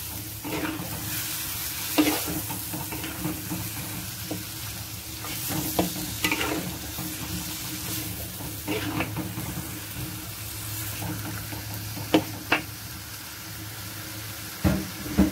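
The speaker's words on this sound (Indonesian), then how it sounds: "Kita masukkan daging sapinya sedikit demi sedikit. Kemudian kita aduk hingga tercampur rata ya." Beef rendang frying in a pan while being stirred: a soft continuous sizzle with scraping spoon strokes and occasional sharper clacks against the pan, fairly quiet and close, no talk.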